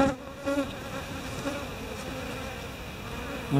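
A honeybee swarm attacks a European hornet that has got into it. A dense, close, steady buzzing of many bees fills the whole stretch, with a few louder wingbeats standing out.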